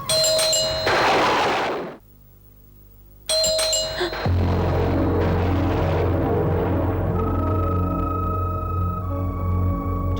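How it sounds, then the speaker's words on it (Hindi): Doorbell at the main door of a bungalow chimes, a bright ding-dong ringing in two bursts separated by a short silent gap, followed by a low sustained musical drone in a dramatic television scene. "डोरबेल की तरफ उसका हाथ गया"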